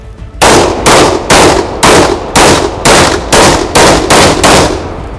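Ten loud, evenly spaced gunshots ring out about half a second apart at a special forces shooting drill, each crack close and powerful with a short decaying echo before the next.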